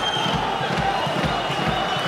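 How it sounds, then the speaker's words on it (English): A packed MMA arena crowd at an M-1 bantamweight title fight screams and roars nonstop for the champion, a dense, loud, continuous wall of voices with rhythmic thumping underneath. "That makes the crowd even louder in our ears, Chris. They are screaming for their champion."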